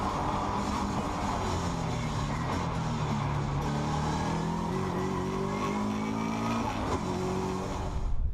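A Subaru Impreza race car drives hard around a Scottish circuit, its engine roaring steadily and rising through the gears, with faint tire noise and no talk.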